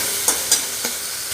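Slit green chillies fry and sizzle in a pan, with a few brief scraping stir strokes over a steady hiss of hot oil.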